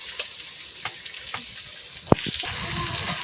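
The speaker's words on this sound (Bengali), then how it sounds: "তো আদা রসুনটা দিয়ে সুন্দর করে কষানো হচ্ছে দেখুন" Ginger-garlic paste and masala frying in a pan with salt, a steady close sizzle broken by a sharp clatter near the middle and stirring scrapes, then a louder hiss toward the end.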